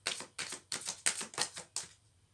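Tarot cards being shuffled and drawn by hand, six quick papery riffles and slaps in a row, close and dry, ending in quiet.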